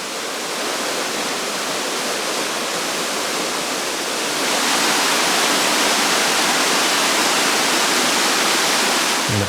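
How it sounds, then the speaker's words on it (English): Water of the Progonat waterfall in Albania tumbling down a series of rocky steps, a loud continuous roar that swells slightly partway through and stays steady and close, with no voices. "Here, a tumbling stream cascades down a series of rocky steps."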